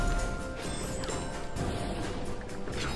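Glass shattering in the video game Rayman Legends, a crashing, crunchy break with clattering debris over dense, steady game music and effects throughout.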